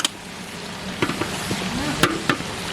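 Sizzling in a frying pan with a few sharp scraping clinks as chilli powder, biryani masala, garam masala and pepper powder are stirred, close by and fairly quiet, no talking.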